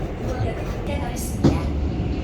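A subway train riding along with a steady, loud interior rumble and a single brief clunk partway through, heard from inside the car.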